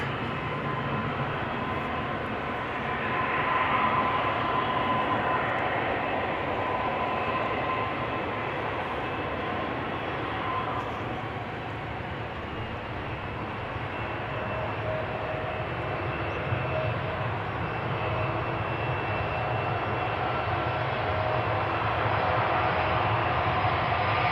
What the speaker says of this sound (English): another Delta A330 is going to attempt a takeoff